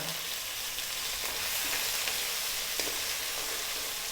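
Chicken sizzles and fries steadily in its own rendered oil as the base for ginataang malunggay, a Filipino coconut-milk dish, making a continuous close, hissing crackle with no pauses.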